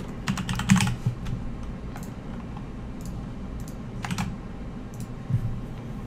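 Typing on a computer keyboard while entering a Battle.net email and password for Hearthstone on a PC, with irregular bursts of fairly close keystroke clicks over a low room hum, no talking.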